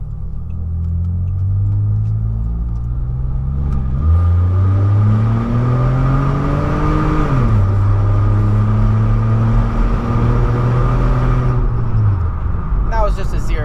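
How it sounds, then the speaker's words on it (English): Pontiac G6 with its muffler removed, heard from inside the cabin with windows up during a hard 0-to-60 run: loud raspy engine drone climbing in pitch through rising gears, with a clear shift dip partway through, continuous and close. "So we're gonna do a hard acceleration with the windows up."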